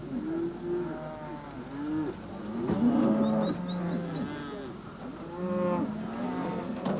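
Cattle low repeatedly on a large Hawaiian ranch, several overlapping moos from a herd at moderate distance, rising and falling in a steady chorus.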